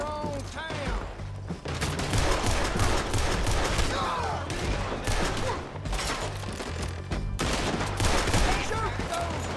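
Dense gunfire fills a Red Dead Redemption 2 town shootout, with overlapping rapid shots and sharp cracks nearly continuous across the scene, loud and close with a short lull, while voices shout over the battle.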